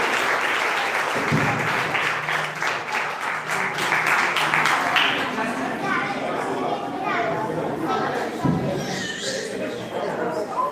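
A church congregation applauds together in a steady, sustained wash of clapping, with voices and children's chatter mixed in throughout.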